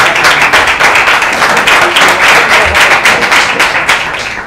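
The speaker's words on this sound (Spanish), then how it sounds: "Un aplauso." Guests at a home-brewing craft beer event applaud a presenter, loud close clapping with a lively, uneven rhythm that stays strong until it thins out at the very end.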